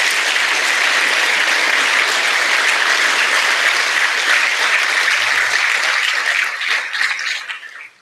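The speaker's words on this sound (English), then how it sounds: "I think that you guys deserve another round of applause." An audience claps at a firefighter academy graduation ceremony, a loud, dense and sustained round of applause that stays steady throughout before tapering off at the very end.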